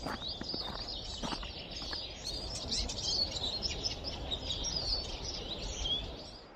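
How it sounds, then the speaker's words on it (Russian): Many birds singing in a snowy forest in early April, dense overlapping chirps and trills at close to middle distance over a soft rustling background, continuous throughout. "лишь невероятно активное пение птиц напоминает о пробуждении природы"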